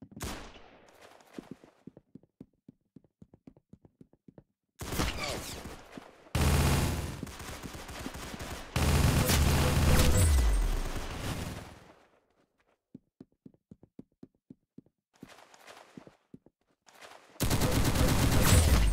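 Gunfire in the Roblox-style shooter game Arsenal comes in loud, dense bursts of rapid automatic fire separated by quieter stretches of scattered single shots and footsteps.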